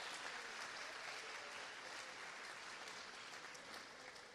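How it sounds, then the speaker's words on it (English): Applause for teachers at a 2023 graduation ceremony at Riverside Academy West, a faint, distant, steady wash of clapping from a large crowd lasting several seconds. "Please give them a round of applause."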